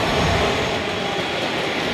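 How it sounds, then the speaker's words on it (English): A small business jet, a Learjet or Phenom, passes overhead with a steady, broad engine roar that stays loud and even throughout, with no talking. "That plane right there. That's a little Learjet right there. I think it's a little Lear or Phenom."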